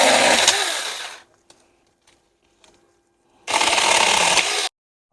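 Saker 4-inch cordless 20V mini chainsaw cutting through a tree branch, with a loud buzzing burst of about a second that winds down, a quiet pause with small clicks, then a second loud cutting burst.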